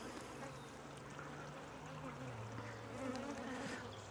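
Honeybees droning at an open hive during an inspection, a steady, close, continuous buzz with individual bees whining past, with no talking.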